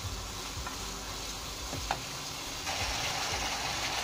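Spice paste fries in a pan for a bele fish and potol curry, a dense close sizzle with a few spatula scrapes, the frying hiss growing louder partway through, with no speech.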